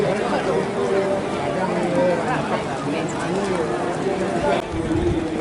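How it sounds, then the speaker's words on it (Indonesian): Racehorses run with steady hoofbeats toward the starting gate at a horse race in Bukittinggi, Indonesia, under a busy crowd murmur and a continuous announcer voice, loud and constant throughout. "3 ekor kuda sudah menuju starting gate."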